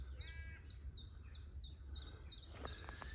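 Faint bird calls in quiet woods, a series of short chirping notes repeated at a steady pace over low background hush, with a few sharper calls toward the end.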